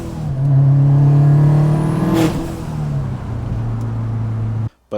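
Subaru STI tuned to 800 wheel horsepower, stock turbo setup, revving hard: a loud, close engine roar rising and holding through several seconds, with a sharp burst midway, ending abruptly.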